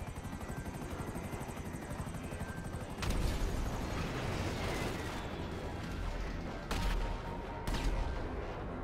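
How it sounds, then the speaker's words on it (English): Jet cannon fire strikes a Savage helicopter in GTA Online, sharp bursts of gunfire breaking over a steady, loud rotor drone, with several heavy impacts near the start and two more later on. "the jet shot the cannons at the Savage"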